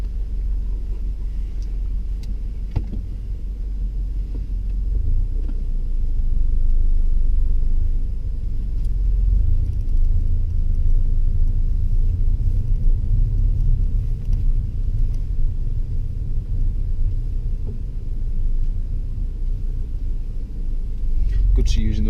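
A learner's car pulls away during a driving lesson, a steady low engine rumble and road noise filling the cabin throughout, with an instructor and pupil talking now and then.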